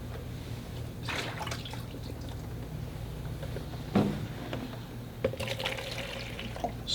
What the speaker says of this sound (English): So now I just put in some fresh, clean water.